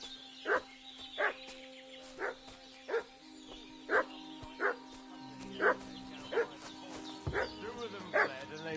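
Dog in the medieval role-playing game Kingdom Come 2 barking repeatedly in short, evenly spaced yaps at moderate distance, with a steady tonal hum and faint game ambience underneath.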